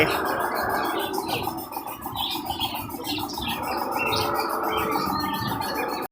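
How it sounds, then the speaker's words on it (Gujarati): Dense, continuous chatter of many Australian budgerigars chirping and twittering together at a nature park in Surat, steady and fairly close throughout. "ઓસ્ટ્રેલિયન બડગીસ આ જમીન પર જ રહે વધારે જો"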